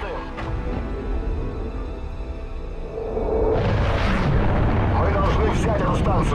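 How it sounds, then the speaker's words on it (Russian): Heavy artillery explosions in Call of Duty: Ghosts swell into a loud, sustained rumbling barrage midway through, with a continuous dense roar of blasts filling the second half over a low battle drone. "у нас уже тяжелая артиллерия подключилась"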